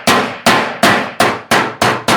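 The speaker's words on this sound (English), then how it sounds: "A cross-face detailing hammer." A cross-face detailing hammer strikes 24 gauge steel eaves trim in six evenly spaced, loud metallic clangs, each ringing briefly before the next blow.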